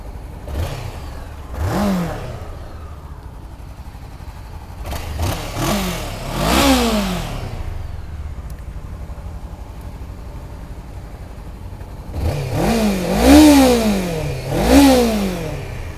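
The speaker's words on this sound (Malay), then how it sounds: "jom kita start tengok ini Honda CBR 500R bunyi ni macam mana." A 2016 Honda CBR500R motorcycle engine, stock and unmodified, revs repeatedly from a steady idle, with several rising and falling throttle blips early on and a longer cluster of quick revs near the end, heard up close.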